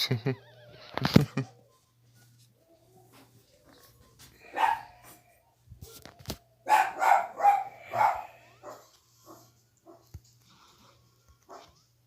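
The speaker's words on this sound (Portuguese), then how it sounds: "Ah, que cachorro chato." A dog in the Game Boy game Link's Awakening DX gives several short electronic bark-like chirps in scattered bursts, with a few quiet blips in between and a voice speaking briefly.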